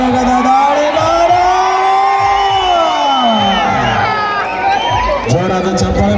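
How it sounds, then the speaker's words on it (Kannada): A crowd at a kabaddi match roars and cheers loudly and continuously, with rising and falling whoops and shouts filling the whole stretch. "ಜೋರಾದ ಚಪ್ಪಾಳೆ ಮೂಲಕ"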